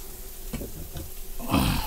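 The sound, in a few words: creamy curry chicken sizzling on a griddle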